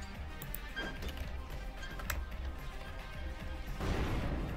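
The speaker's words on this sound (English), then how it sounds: "That was a violent explosion." A grenade goes off in a zero-gravity video game level, a brief crash followed by a rumbling low blast that swells toward the end of a busy in-game soundscape.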